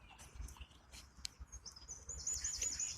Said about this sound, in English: as you can hear the birds in the background